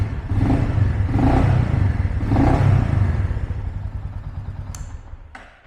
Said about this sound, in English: Let me just give it a couple revs for you.